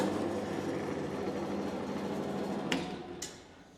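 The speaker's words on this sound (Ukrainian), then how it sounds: "при закінченні різа пила має кінцевий вимикач, який спрацьовує коли пила зупиняється" A 9craft MS150 metal band saw (550W, 220V) winding down as its limit switch trips at the end of a cut: a steady mechanical drone that fades, then two sharp clicks near the end.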